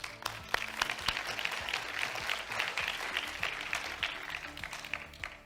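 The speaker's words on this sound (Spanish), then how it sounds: "por qué no brindarle un fuerte aplauso a todos ellos" Applause for Brahman cattle exhibitors at a world Brahman congress, a crowd clapping steadily with crisp individual claps audible throughout, fairly faint and without speech.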